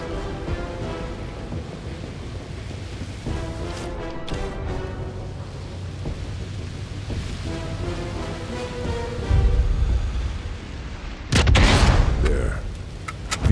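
A V2 rocket misfires inside its sealed launch capsule in Sniper Elite 5, ending in heavy booming blasts and a roaring burst late on, over steady rumbling background and game noise.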